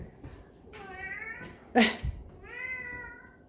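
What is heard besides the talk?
pet cat Oreo meowing, whining for food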